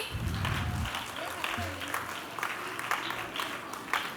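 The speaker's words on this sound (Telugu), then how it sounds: "క్లాప్ చేయండి గ్రూప్ 1కి" A group of children at a church Vacation Bible School claps together for a few seconds, overlapping with voices talking nearby in a busy room.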